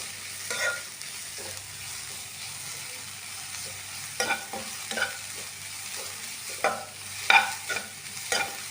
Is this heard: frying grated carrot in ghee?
yes